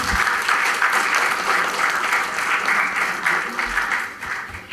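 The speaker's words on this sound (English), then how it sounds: "Please, audience, give them a big round of applause." A round of applause from the audience at an HR conclave session for the panelists after a discussion, a thick, even wash of many hands clapping for nearly five seconds, fairly loud and close, with a faint voice in the background.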